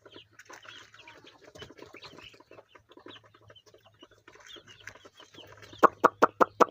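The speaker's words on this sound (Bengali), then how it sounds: "এই ঘরের মধ্যে দেখুন অনেক গরম পড়তেছে, মুরগিগুলো কীভাবে হাঁপাইতেছে" Sonali chickens in a hot, crowded coop give soft scattered clucks and murmurs, and then a close run of five loud, sharp calls at the end.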